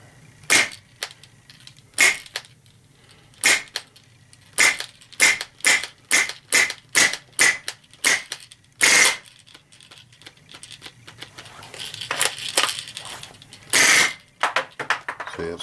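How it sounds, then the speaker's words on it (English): An Umarex Steel Storm CO2-powered BB pistol shooting nearby: sharp single cracks with pauses between them, then a quick run of regular shots, some louder blasts, and a final stretch of rapid automatic fire. "yet it's firing 6-shot burst, and that time it just went full auto all the way"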